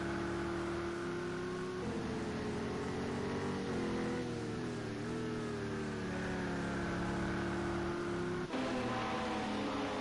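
Race car engines, the LMP class at Monza's Ascari chicane on the opening lap of an endurance championship round, drone loudly and continuously with pitch shifts as the cars brake and accelerate, and a sharp change near the end as another car passes.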